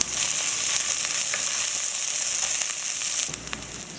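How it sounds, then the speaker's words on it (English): Chopped onion, garlic, pepper and pimento fry in hot oil in a pot for a Trinidadian eggplant dish, giving a steady, close, dense sizzle that softens slightly near the end, with no talking. "So I've got my oil in my pot, adding in the chopped up onion, garlic, pepper, pimento."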